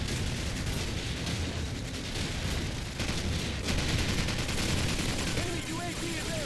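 Rapid AK rifle gunfire from Call of Duty 4, dense bursts of shots running throughout under busy game noise, with some speech mixed in.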